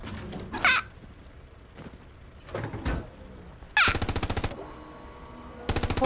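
Video game gunfire from a vehicle in Hell Let Loose comes as sharp bursts of rapid automatic fire, loud and close, separated by quieter gaps with a few softer impacts between volleys.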